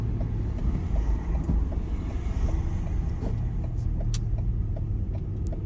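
A car drives through the small lanes of Guernsey with a steady low engine and road rumble plus some wind noise, continuous and close, with no talking.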